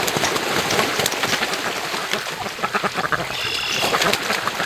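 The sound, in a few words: ducks quacking at a lake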